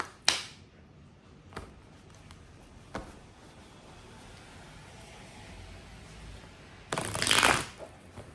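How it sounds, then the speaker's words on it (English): Two quick bursts of cards being shuffled, a soft riffle near the start and a louder, longer riffle toward the end, with light taps between. "I'm gonna do another shuffle on this one"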